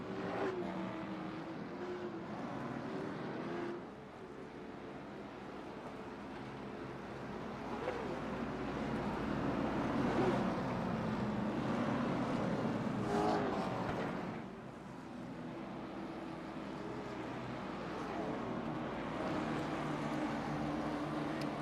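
Late Model Stock race cars circle Myrtle Beach Speedway behind the pace truck in an iRacing simulation, a steady engine drone that swells and fades as the pack passes, fairly quiet and continuous with no talk.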